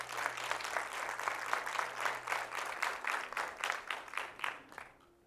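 A church congregation applauds during a sermon, with moderate clapping in a loose rhythmic pulse that fades out at the end.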